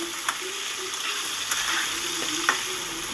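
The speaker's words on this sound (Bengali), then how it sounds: "আমি আলুগুলোকেও আবার ভেজে নিচ্ছি" Potatoes fry in oil for a mixed-vegetable chorchori with fish head, giving a constant close sizzle with a few light stirring scrapes and taps, and nobody speaking.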